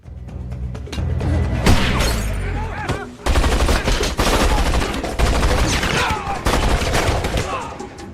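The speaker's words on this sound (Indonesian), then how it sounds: "tembakan Agen Cruz meleset" Gunfire in an action film scene inside a prison, with several loud shots and crashing impacts breaking over a dense, booming soundtrack, the bursts arriving in clusters for about eight seconds.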